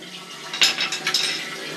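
A urinal cistern fills with water during a plumbing repair, a faint hiss of running water broken by a few splashy trickles, close and alone.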